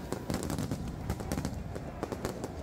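Fireworks crackle and pop during a crowd reception for the Olimpia football club before a Copa match against Flamengo. The bursts come in rapid irregular clusters, moderately distant, over a steady background din.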